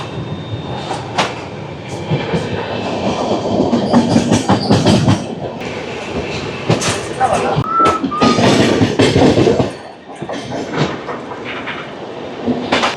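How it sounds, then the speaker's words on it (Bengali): The Howrah to New Jalpaiguri Shatabdi Express (12041) runs at speed on its tracks, with a loud, steady rumble, repeated wheel clatter and brief squeals heard up close from inside the train. "ধুলো উড়িয়ে আমাদের ট্রেন ছুটছে, প্রায় 100 কিলোমিটার পার আওয়ার হবে।"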